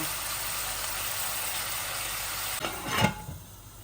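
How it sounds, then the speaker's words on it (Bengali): Steady sizzling of ginger garlic paste frying in a pan, with a brief stirring scrape near the end, no voices. "একটু ভাজা ভাজা হয়ে যাক"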